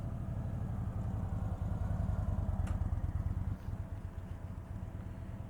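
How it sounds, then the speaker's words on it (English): A 2025 Indian Super Scout Limited motorcycle engine idles steadily nearby, a close, continuous low throb with a slight dip in level partway through, with no voices. "This is the Super Scout Limited."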